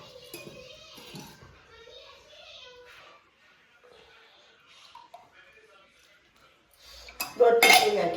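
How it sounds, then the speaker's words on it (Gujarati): A spoon clinks and scrapes against a steel dish while oil is added to a batter of millet and chickpea flour. The sharp, bright clatter comes near the end, after a stretch of quiet talk with children's voices. "દોઢ ચમચી નાખી ગઈશ તેલ."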